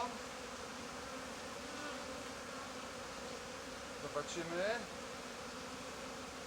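A steady insect buzz from many honeybees at a hive hums throughout, with a brief voice near the end and a louder buzzing swell passing close by.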